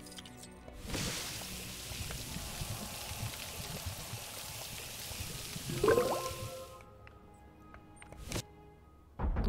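Water pours steadily in a Lego Harry Potter video game, a continuous splashing wash with a brief drip or squish near the end, heard alone without talk.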